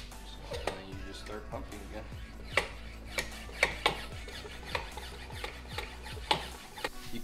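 A Motive Products power brake bleeder being pumped by hand while bleeding car brakes, giving a series of sharp irregular clicks and squeaks over a steady low hum, close up and without speech.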